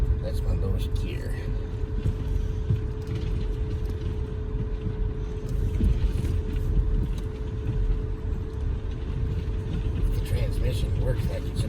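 Vehicle climbing the Wilkerson Pass mountain road in Colorado in its lowest gear, a steady loud low engine and road drone throughout with a constant hum, interior cabin sound.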